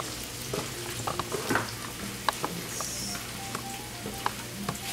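Cut okra frying in a shallow layer of oil in a black iron skillet, a steady crackling sizzle with scattered pops and light clicks, close and moderately quiet, no talking.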